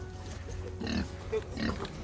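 Pigs grunt and squeal at feeding time on a small homestead, their noises rising and falling close by over a low background rumble.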